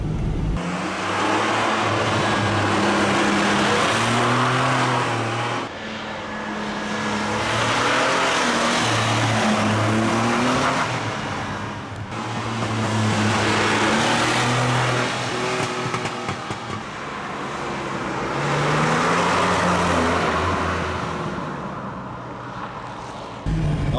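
A Ford Capri V6 engine revs and accelerates hard through repeated gear changes, its loud, throaty drone rising and falling in several long pulls, close and continuous with no talk.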